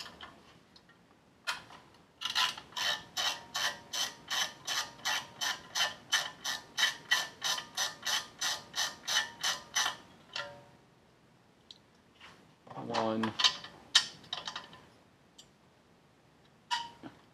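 A ratchet with a 10 mm deep socket turning out small screws on a Dodge Dart 1.4L, giving a steady run of close, crisp clicks for several seconds, then a brief scrape and a few scattered clicks.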